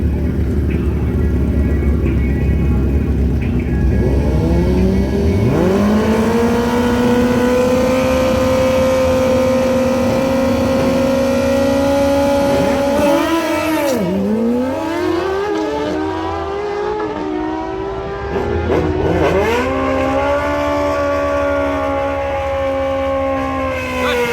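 A drag car launching on a test pass at a drag strip, its engine whining and climbing loudly through rising pitch sweeps with gear changes, close and continuous for over twenty seconds.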